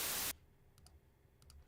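A short burst of digitally generated white noise, a loud flat hiss lasting about a third of a second before cutting off to near silence with a few faint clicks.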